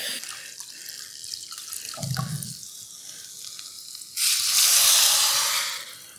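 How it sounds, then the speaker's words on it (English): Water runs into a Visions glass cooking pot holding pinto beans, a light trickle first and then a louder, rushing pour for the last couple of seconds. "So let's put some water in here."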